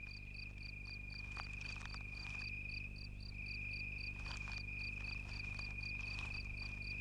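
A male visor cricket (Scyphophorus) at the mouth of its burrow in sand gives a continuous high, steady trill, close and clear, with a faint pulsing chirp layered over it.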